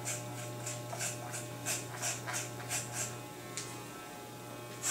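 Electric hair clipper running close by during a home haircut and fade, giving a steady low mains-like hum with rhythmic brighter buzzing pulses as it passes through hair, fairly quiet overall.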